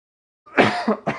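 Coughing up close: a harsh cough followed by two more short, rough coughs in quick succession, no talking.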